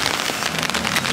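Steady rain falling outdoors on a rainy day, a dense, even patter of drops on surfaces that holds at a constant level throughout, with no voices.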